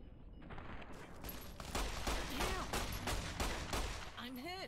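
Rapid sustained gunfire in the video game Fallout: New California, a dense string of shots with a few whooshing or warbling effects near the end, loud throughout.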